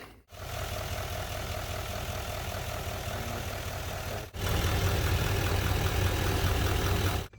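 A 2018 Chevrolet Silverado with the L5P Duramax diesel idles in a steady low, rough rumble. The sound breaks off briefly and then resumes strongly, close and alone.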